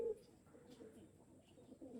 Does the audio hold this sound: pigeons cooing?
yes